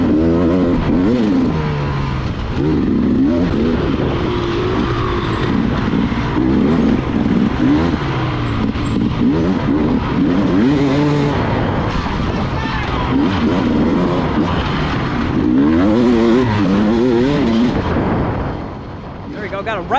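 A 2020 Beta 300 dirt bike races through an off-road course, its two-stroke engine revving and wavering up and down loudly and constantly, with a rider's voice speaking over it.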